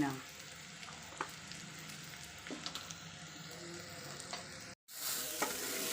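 Spices are stirred into bitter gourd curry frying in a pan, a steady close sizzle broken by scraping strokes of the spoon, with a brief dropout near the end.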